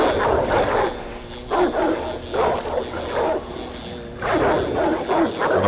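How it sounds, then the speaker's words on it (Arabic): Dogs bark and yip in rapid bursts in Oddworld: Soulstorm, several loud close barking clusters repeating over a steady game background. "دي كلاب."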